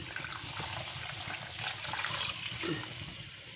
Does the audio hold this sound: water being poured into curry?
yes